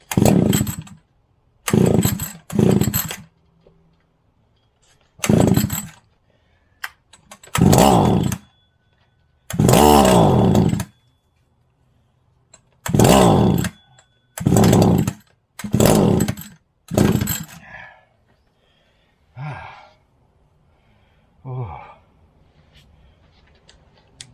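A chainsaw engine revs in a string of short, loud bursts, each a second or so long with brief gaps between them, before it tapers off into quieter, uneven sputters near the end.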